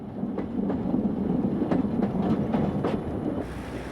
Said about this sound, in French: c'est une nouvelle décélération, suivie du tressautement des roues sur les aiguilles